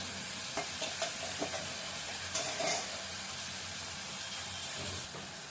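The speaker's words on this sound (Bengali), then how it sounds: "পেঁয়াজগুলো একটু ভাজা ভাজা হয়ে গেছে" Chopped onions sizzle and fry steadily in a pan at home, with occasional stirring clinks and scrapes over a constant soft hiss, close and alone with no talk.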